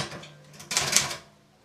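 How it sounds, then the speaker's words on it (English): An old mechanical typewriter in a Kenyan police station clatters through a short burst of keystrokes, the strikes rising into a quick, sharp cluster before fading, heard up close without speech. "This type of typewriter is found in many police stations."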